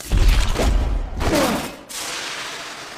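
Iron Man suit thrusters firing for lift as a movie effect: loud roaring blasts with rumbling low end, two surging bursts followed by a steadier, quieter hiss.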